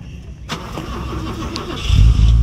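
An MG Midget at a classic car rally, its engine turning over and catching with a sharp start, then running louder with a low rumble swelling near the end, close to the microphone.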